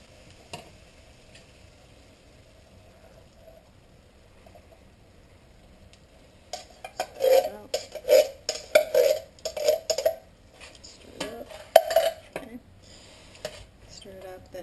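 Turkey and sauce being stirred in a cooking pot, a spoon scraping and clinking against the pot in a run of uneven strokes after a quiet start, fairly close, with faint talk in the background.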